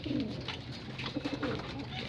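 Racing pigeons cooing softly in a repeating low burble, close by, with faint background rustling and no talking.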